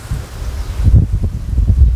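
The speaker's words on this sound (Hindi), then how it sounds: "वो देखो सामने कितनी तेज हवा चल रही है, मिट्टी कैसे उड़ रही है, रेत।" Strong gusty wind buffets loudly, blowing sand and dust, a low roaring rush with microphone rumble, growing heavier partway through.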